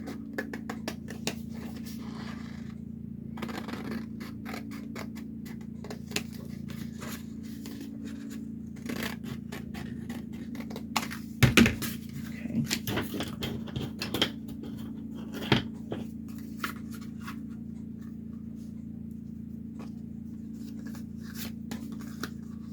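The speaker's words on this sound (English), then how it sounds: "So I'm going to cut this the size that I think it needs to be." Scissors snipping craft material for a Christmas ornament made from Dollar Tree supplies, heard as scattered quiet cuts and scrapes over a steady low hum, with a denser burst of snipping midway.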